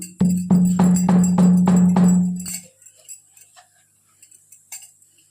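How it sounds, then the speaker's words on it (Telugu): Tamarind being pounded with a pestle in a mortar for a homemade cheema dumpala roti pachadi: a quick run of about eight close, loud, ringing thuds, then a few faint taps and scrapes. "చింతపండును కూడా వేసి బాగా దంచుకోవాలి."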